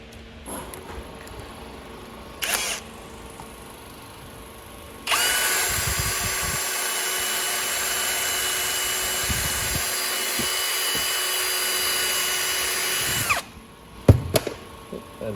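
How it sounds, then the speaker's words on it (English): A wire wheel on a power tool is used to clean a part from a Wagner/Titan airless paint sprayer pump. After a brief start, it runs as a loud, steady high whir for about eight seconds, then stops with some handling clatter. "Just give it a bit of a hit with the wire wheel, I think."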